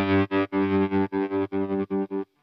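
Electric guitar notes played in short repeated bursts through a Walrus Audio Melee reverb and distortion pedal, each chord cut off abruptly by the reverb kill switch, ending in near silence with no lingering tail.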